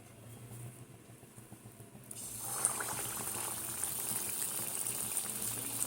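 Biuli dal (black gram) fritter batter dropped into hot refined oil, a steady bubbling sizzle that swells and brightens after a couple of seconds and then keeps up a dense, continuous frying hiss.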